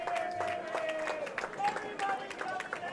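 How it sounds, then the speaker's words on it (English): Applause from a small crowd greets a player returning to the game at a Worlds ICC Teams 2024 match, a steady patter of clapping mixed with cheers and voices throughout. "He gets a rather suspiciously loud round of applause"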